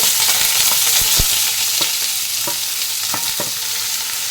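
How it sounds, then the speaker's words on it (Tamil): Chopped onions hit hot oil with mustard seeds and fry with a steady, loud sizzle, broken by sharp stirring clicks and scrapes of a spoon against the pan at irregular intervals. "ரெண்டு பெரிய வெங்காயம் வந்து நல்ல பொடியாக கட் பண்ணி வச்சுருக்கேன் அதையும் நம்ம வந்து ஆயிலில் போட்டுக்கலாம்"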